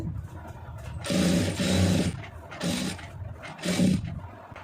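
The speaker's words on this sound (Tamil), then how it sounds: "தையல் நல்லா பொடி தையலாக வச்சுக்கிறோங்க" A sewing machine runs small, fine stitches along blouse fabric in several short bursts of whirring separated by brief pauses, close up and without talk.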